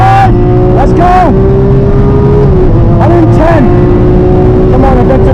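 A Lamborghini Aventador accelerates hard at full throttle, a loud continuous engine roar climbing in pitch with gear changes and wind noise, heard from inside the car with a voice talking over it.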